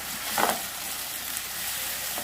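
Onions sizzle in a hot pan with a constant crackly hiss, broken by a brief louder burst of stirring near the start; no voices.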